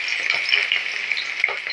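Capsicum and chopped garlic sizzle and fry in hot oil, a steady close crackling hiss with small pops and occasional stirring, no voices.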